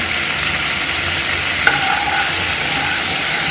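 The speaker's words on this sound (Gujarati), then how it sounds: "વઘાર આપણો હવે ઉભરો આવી ગયો છે વઘારમાં." Hot oil tempering for Surti sev khamani sizzles steadily and close up in a pan, with a brief stir or clink partway through.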